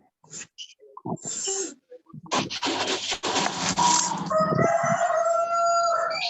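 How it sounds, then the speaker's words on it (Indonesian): A rooster crows loudly and close, a long drawn-out call, after some brief clucks, scratching and a few people talking nearby. "Oh, ada suara ayam tuh."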